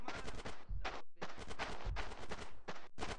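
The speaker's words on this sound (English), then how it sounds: "Get some suppressing fire in there." Rapid bursts of automatic gunfire from the GTA San Andreas video game, loud and close, repeating in quick volleys separated by short gaps.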